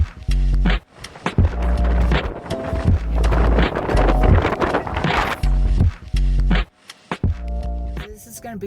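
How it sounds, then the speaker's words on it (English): Strong gusts buffet the microphone on a windy mountain pass between Yeongdaesan and Soraksan in Korea, coming as loud low roaring bursts with sudden drops and a voice talking through them. "by golly is it windy up here"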